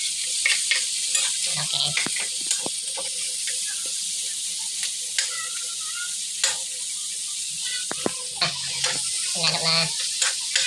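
Onion, garlic and tomato sautéing in a pan while being stirred, constant sizzling with repeated scraping and clinking strokes of a utensil, close; a voice speaks briefly over it.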